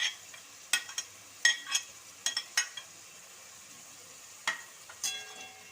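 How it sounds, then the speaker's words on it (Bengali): Chopped tomato goes into a pan of frying chicken kosha masala, with soft sizzling under a series of sharp spatula scrapes and clinks against the pan, irregular and close. "টমেটো কুচি আমি দিয়ে দিচ্ছি।"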